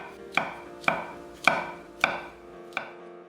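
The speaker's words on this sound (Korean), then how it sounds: "방울토마토 5개는 반을 갈라 준비하고 베이컨 3줄은 1cm 두께로 썰어서" A knife chops on a cutting board, most likely cherry tomatoes or bacon strips. Five sharp, evenly spaced cuts land about half a second apart, close and crisp, in an otherwise quiet kitchen.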